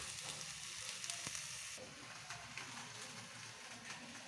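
Masala spice paste being stir-fried in a pan, a soft, low-level frying sizzle with faint stirring rustles, heard fairly quietly and continuously.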